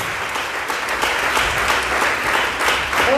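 A church congregation claps loudly and continuously in praise during a worship service, a dense steady roar of many hands with cheering swells, filling the room and sustained throughout.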